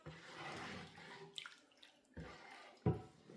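Water drains off cooked ukwa (African breadfruit) with a soft splashing trickle, then brief drips and a sharp knock near the end, close and fairly quiet.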